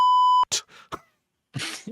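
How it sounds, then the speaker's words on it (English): A censor beep sounds as a loud, steady, pure tone masking a spoken word, then cuts off as people go on talking in short bursts. "you beeped out the word theft"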